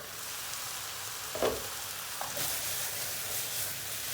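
Onions and minced meat frying in a pan on the stove, a steady soft sizzle throughout with a brief louder stir or hiss partway through, close and fairly quiet with no talking.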